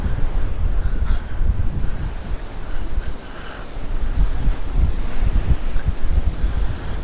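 Strong wind buffets the microphone in loud, gusting rumbles that rise and fall continuously, with no talking, in Palmanova, Mallorca.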